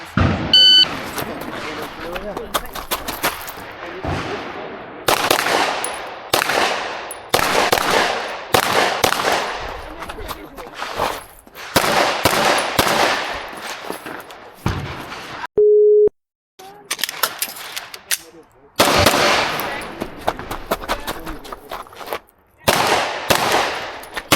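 Pistol shots at a shooting match stage crack out close and loud in rapid bursts with short pauses between strings, plus a brief electronic start tone partway through.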